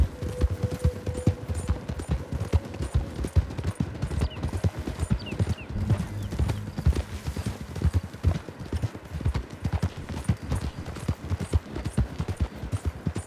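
Horse hooves clip-clopping in the video game Red Dead Redemption online mode, a steady trotting rhythm that runs throughout, with brief whinnies and faint distant gunfire mixed in.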